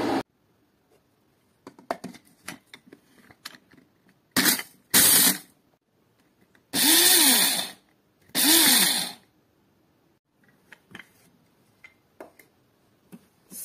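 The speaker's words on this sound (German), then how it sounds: "die trockenen werden zerkleinert und für Gewürze aufgehoben" Dried chili peppers are ground into coarse chili powder by a small electric grinder, which whirs loudly in three short bursts between quieter rattling and tapping.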